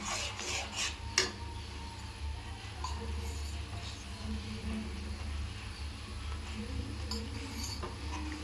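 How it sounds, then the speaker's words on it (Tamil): Soft scraping and rubbing of a spoon stirring ghee through thick beetroot halwa in a pan, steady and close, with a few light metallic clinks. "இந்த நெய் எல்லா இடத்துக்கும் பரவுற மாதிரி நல்லா கலந்து விட்டுக்கலாம்"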